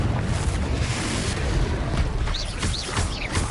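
A Confringo explosive spell blast in Hogwarts Legacy, a loud, dense rumbling boom sustained with crackling bursts and brief whooshing swirls layered over busy combat noise.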